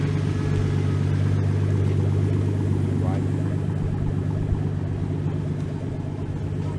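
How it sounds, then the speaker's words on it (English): Cars rolling in to a Cars and Coffee meet in Tampa, Florida, with a steady low engine rumble and idling drone running throughout, fairly close, while people talk in the background. "now we've got some cars coming in"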